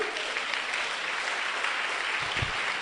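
A church congregation applauds in a dense, continuous wash of clapping that fills the room evenly and fairly loudly for a few seconds.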